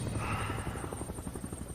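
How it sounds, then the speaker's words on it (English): A helicopter heard briefly: a steady, rhythmic rotor thump at moderate distance, with a faint high whine above it. "The first helicopter."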